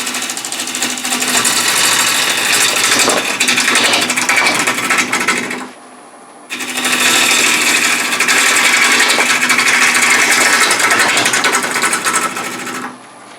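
A wood lathe spins a rare cherry burl bowl blank, giving a loud, steady whirring drone with rattly texture that runs for several seconds, stops briefly, then starts up again.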